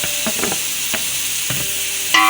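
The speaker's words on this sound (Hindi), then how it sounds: "अब मैं इसमें टोटल जितने भी हमारे वेजिटेबल हैं हम सब ऐड कर रहे हैं। इसको ऐड करके तकरीबन मैं 5 से 7 मिनट तक चलाऊंगी" Vegetables with spices being stirred in a hot pan, a continuous sizzle broken by several scraping strokes of the spoon, close and clear with no talking.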